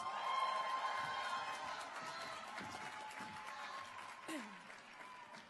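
Faint, distant crowd applause, a steady patter of clapping that fades slightly over a few seconds.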